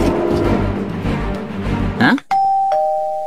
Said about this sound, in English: It keeps ringing the doorbell!